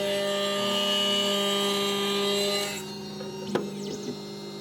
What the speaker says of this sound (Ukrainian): Нарізаємо лезо.